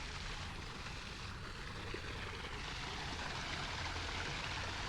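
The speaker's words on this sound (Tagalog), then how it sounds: "May nakita tayo itong bukal, umagos sa tubig." A natural spring at La Mesa Eco Park with water flowing in a continuous, even rush, fairly close and steady, with no voices.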